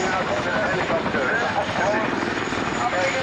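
Helicopter engine and rotor noise at a military medical evacuation demonstration at RAF Cosford, a loud steady roar filling the whole clip, with voices talking over it.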